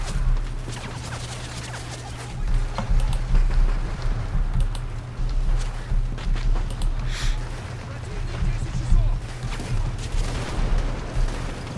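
Battle noise from the video game Call of Duty Modern Warfare 3, with a grenade blast and gunfire. Dense, rumbling booms and sharp reports run continuously, and a voice talks over the din.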